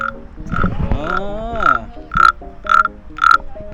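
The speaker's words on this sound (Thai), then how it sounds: "ไปขูดขูดเอาไว้ล่อกบ เสียงกบเห็นไหม" Someone scrapes a wooden frog-call lure at a long-neck Karen village, making about five evenly spaced, loud croaks in a steady rhythm after a longer, warbling opening rasp. A voice is briefly heard at the start.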